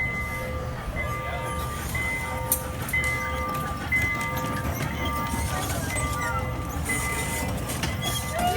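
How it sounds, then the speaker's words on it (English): A small miniature train ride at Riverbanks Zoo in Columbia, South Carolina, rumbling steadily along its track with a constant low mechanical drone, a few faint tonal squeals above, and background crowd voices throughout. "Another attraction for the little ones is a little train ride, which also has an additional charge."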